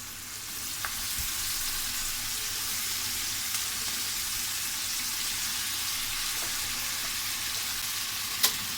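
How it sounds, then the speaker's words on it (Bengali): Loitta fish frying in a pan of spiced onion, a steady bright sizzle that fills the whole stretch, with a few faint taps of utensils and one sharp clink near the end. "দিয়ে দিচ্ছি আগের থেকে কেটে দিয়ে পরিষ্কার করে রাখা লেট্টা মাছ।"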